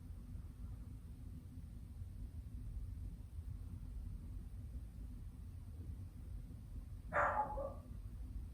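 A dog named Jack gives a single short bark near the end, fairly close, over a long stretch of quiet low room hum during a yoga class.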